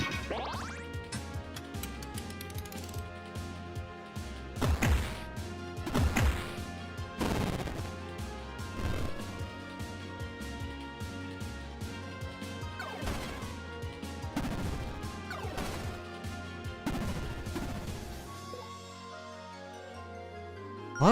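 Rapid bursts of impacts, crashes and blasts from attacks and fire breath in a role-playing video game, dense and continuous over a music bed, fading near the end.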